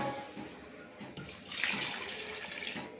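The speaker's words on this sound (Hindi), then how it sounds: "अब इसमें इतना सा पानी ऐड करेंगे" Water is poured into a cooking pot with potatoes for potato kebabs, a steady splashing pour that brightens and grows louder midway and keeps running to the end, with no talking.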